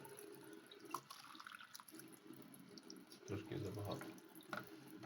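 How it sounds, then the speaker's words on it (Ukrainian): Tap water running steadily into a small cup as it is warmed, with faint drips and splashes in a quiet room and a brief louder gush near the end. "і почекаю, щоб протекло. На руку. Коли буде тепла, я її набираю."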